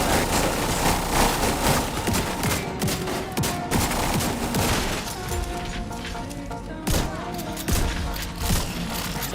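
Super 90 shotgun fire in The Division 2 video game, sharp booming shots punctuating a dense, continuous stretch of gunfire and game noise, with talking over it.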